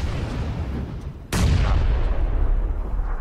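A sharp gunshot from a sniper rifle in PUBG cracks out abruptly, loud and close, with a long rolling echo afterward that decays over several seconds above a low ambient rumble.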